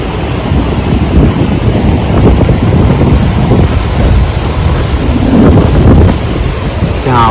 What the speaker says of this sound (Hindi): आवाज़ आ रही है ना समुंदर की।